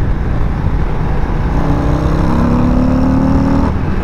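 A 2021 Harley-Davidson Road Glide CVO motorcycle pulls away under hard acceleration, its loud, close engine note climbing steadily in pitch over a few seconds before the throttle rolls off.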